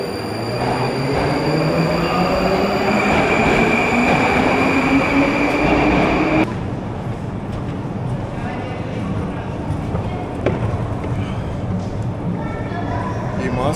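A Moscow metro train runs with a loud, steady rumble and rising whine of motors, changing character midway as the carriage sound shifts, while people talk nearby throughout.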